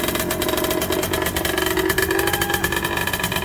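A mountain motorcycle under repair runs loud and close, its engine droning steadily with a rough, even throb and no clear rises or drops.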